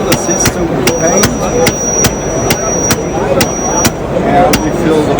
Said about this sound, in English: that's why we just take the regular operation of our piston pump